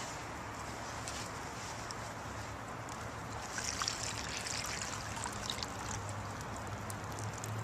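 Water pours through untreated nylon fabric, trickling and streaming steadily, a soft continuous splashing and dribbling that swells slightly midway through.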